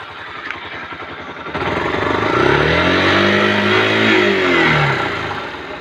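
Yamaha SZ motorcycle engine idling with a steady putter, then revving up into a loud sustained drone as the wheel spins, pitch rising and falling back near the end.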